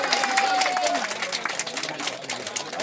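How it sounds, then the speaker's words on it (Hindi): Clapping from a crowd at a village festival in Mayal Gaon Talla, honoring an 80-year-old champion, a steady patter of applause with a murmur of voices throughout. "80 साल के चैंपियन के लिए तालियां।"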